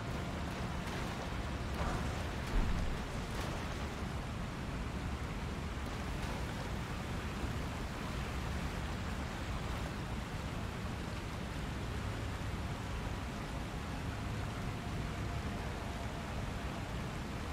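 Constant broadband rush of a waterfall in the Elden Ring game, a steady even hiss of falling water throughout with no talking.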